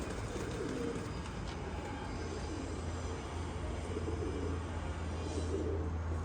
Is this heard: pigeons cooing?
yes